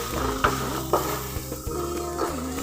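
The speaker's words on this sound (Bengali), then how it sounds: "লঙ্কা গুঁড়ো, ধনে গুঁড়ো, ভালো করে ভেজে" Chili powder and coriander powder frying in a pan for mixed dal, a close sizzle broken by a few sharp scrapes and knocks of the spoon against the pan.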